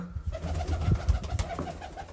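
Pigeons coo in low, throaty bursts close by at a coop in Punjab, over a soft rustling background.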